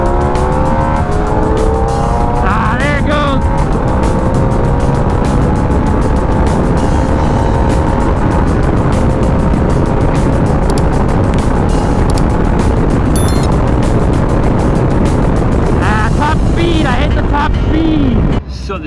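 A Harley Sportster S and a Kawasaki ZX6 accelerating hard from 60 mph side by side, a loud sustained engine roar with rising and shifting pitch and heavy wind rush, fading slightly at the end.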